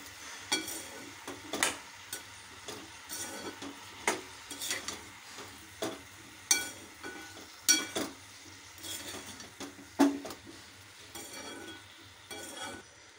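Eggplant curry with salt is stirred in a pan, with a utensil scraping and clinking against the metal in regular strokes about once a second over a faint frying sizzle, close up and with no talking.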